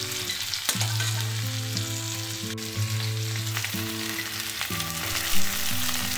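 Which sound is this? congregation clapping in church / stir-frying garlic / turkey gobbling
stir-frying garlic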